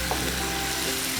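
Tomato frying in a pan while being stirred, a close, even sizzle held for a brief moment.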